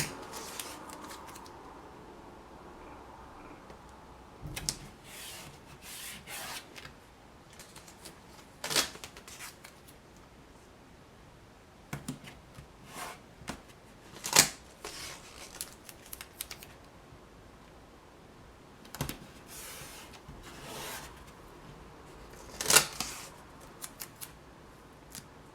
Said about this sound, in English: So you'll want to tape all around every side about 1/4 of an inch in.